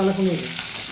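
Spinach and garlic frying in a hot pan, a steady close sizzle with stirring, briefly under a short voice at the start.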